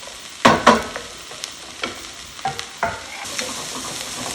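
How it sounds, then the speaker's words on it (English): Onions sautéing in a pan for chili verde, a soft continuous sizzle with several sharp spatula scrapes and stirs, close and without any voices. "Keep them sauteing."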